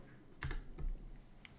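A computer keyboard handled after a key was pulled off, with a few soft, quiet clicks and taps scattered over a short stretch with no one speaking.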